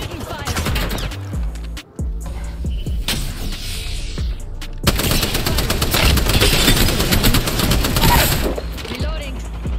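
Heavy gunfire rattles through an Apex Legends match: dense, rapid automatic bursts and overlapping shots, loud and nearly continuous with a short break, while a voice talks over the shooting.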